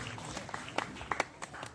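Scattered audience clapping at a devotional gathering, a loose patter of individual claps with several sharper hits, moderately distant over a busy background murmur.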